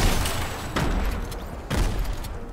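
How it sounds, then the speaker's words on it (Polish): Grenade blasts in the Fortnite video game, two heavy booming explosions about a second apart, loud and near, each with a rumbling tail and no talk over them. "rzuca granaty."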